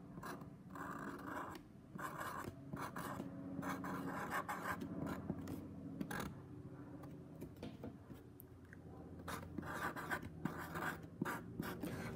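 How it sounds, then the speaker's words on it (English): Pen writing on a box lid, a steady soft scratching and rubbing of strokes that runs throughout, faint and close, with no talking. "I'm going to write down gerbil box."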